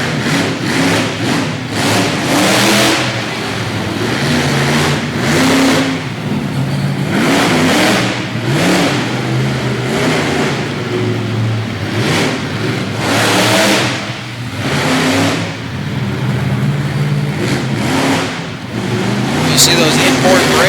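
Black Stallion monster truck engine revving hard during its competition run, loud repeated throttle surges rising and falling in pulses, with an announcer talking over the roar.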